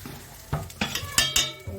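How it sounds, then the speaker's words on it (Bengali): Rice and lentils are tipped into a pot of boiling water while cooking khichuri, giving several quick splashing, scraping pours and stirs with metal-on-pot clatter, close and distinct, with no talk. "এবার সব চাল ডাল সমস্ত কিছু এর মধ্যে দিয়ে দিচ্ছি।"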